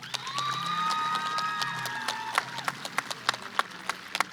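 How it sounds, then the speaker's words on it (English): Graduating class at a Mastbaum 2021 commencement applauding, scattered claps that grow into sharper separate claps toward the end, under sustained tonal whistles or cheers. "Give yourselves a round of applause"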